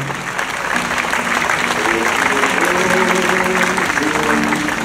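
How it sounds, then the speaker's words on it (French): Audience applause fills a hall for an author and a reader after a letter written by a former minister to his son is read. The clapping is steady and dense throughout, with faint voices and tonal murmurs underneath. "Donc on peut applaudir l'auteur et l'orateur qui est là."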